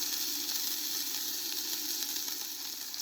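Pork loin browns in a pan for Italian Sunday sauce, giving a steady, soft hiss and crackle that holds evenly without a pause.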